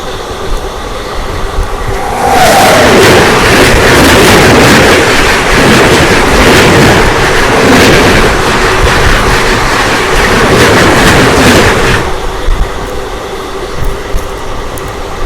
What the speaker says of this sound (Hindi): अभी थोड़ी देर में आएगी क्रॉसिंग के लिए। अहमदाबाद दरभंगा सुपरफास्ट।